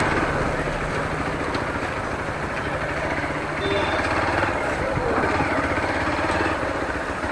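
Honda CB Unicorn motorcycle engine on a ride to a temple, a steady close running drone with low throb that holds throughout, with people talking briefly over it.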